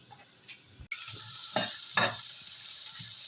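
Chicken hariyali masala fries in a pan, a bright sizzle starting abruptly and holding steady, broken by a few scraping stirs, with no talk.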